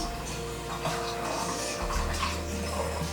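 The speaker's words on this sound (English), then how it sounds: "I'm just going to put my whizzer in there and kind of emulsify this and stir it all up." A handheld whizzer blender whirs steadily while emulsifying a garlic herb salad dressing, a continuous low motor hum with sloshing liquid that shifts in pitch partway through.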